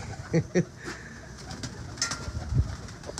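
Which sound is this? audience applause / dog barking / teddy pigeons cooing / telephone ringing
teddy pigeons cooing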